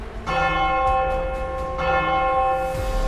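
A church bell tolls in two loud, ringing strikes, each with a long shimmering resonant hum that carries on after it, heard close and alone as a sound effect.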